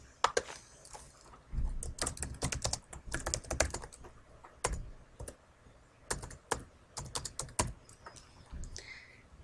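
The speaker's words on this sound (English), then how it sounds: "I'm going to type my name and the date." Bursts of typing on a computer keyboard, close and fairly quiet, with clusters of rapid key clicks separated by short pauses and a few louder keystrokes.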